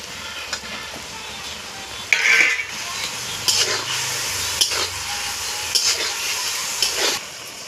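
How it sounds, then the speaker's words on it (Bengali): Chopped tomatoes drop into a hot pan of rohu fish curry with okra, setting off a steady sizzle and frying crackle with a few louder scraping stirs and clatters, close by and without talk. "টমেটোগুলো কেটে রেখেছি, এটা দিয়ে দিই।"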